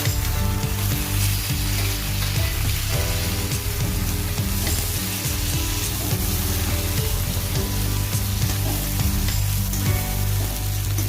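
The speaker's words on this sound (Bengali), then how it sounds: "যা আরও কিছুক্ষণ ভেজে নেব।" Mixed vegetables and green peas frying in a pan for a moong dal recipe, a dense, loud, continuous sizzle with stirring, close up and unbroken for about eleven seconds, no voices.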